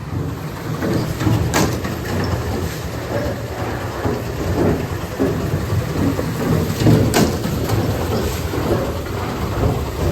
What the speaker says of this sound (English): You can hear the wheel there.